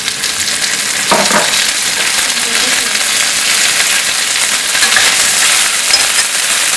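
Green peas tipped into a hot frying pan with onion for masala dosa filling, a brief rattle and clatter as they land over a loud, constant sizzle of oil that continues throughout.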